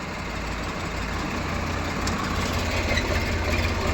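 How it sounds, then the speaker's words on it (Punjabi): A tractor engine in first low gear idles and chugs steadily at low speed during a tractor tug-of-war contest, a constant low rumble that grows slightly louder toward the end. "ਟਰੈਕਟਰ ਦੇਖੋ ਪਹਿਲੇ ਲੋਹ ਚ ਹੈ"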